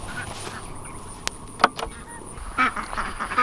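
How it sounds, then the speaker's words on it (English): Farm ducks and geese give scattered, fairly close quacks and honks against quiet outdoor background, a few short calls clustered over a few seconds. "Let's go to ducks and geese."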